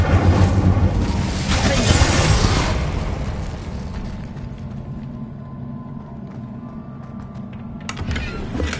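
An Incendio fire spell cast in Hogwarts Legacy on PS5 opens with a loud whooshing, roaring burst that fades into a lower rumble, followed by a brief flare near the end.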